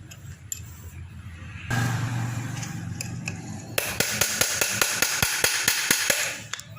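Sharp, rapid hammer blows drive a chisel to stake the pulley nut on a scooter's CVT, a dozen evenly spaced metallic strikes over a running engine-like hum after a few scattered taps.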